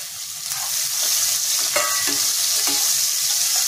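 Onion and garlic frying in hot oil with asafoetida in a pan for Bengali black chickpea ghugni, a steady close sizzle broken by a few stirring scrapes of a spatula, no voices.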